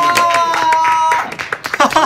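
An online year-end awards show audience claps for the Best Live award winner, with brisk, close applause over music and voices, thinning into scattered claps.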